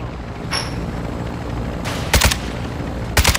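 Bursts of gunfire in Call of Duty: Modern Warfare II, two sharp volleys of several rapid shots each near the end, loud and close over a steady game-ambience bed, with no talk.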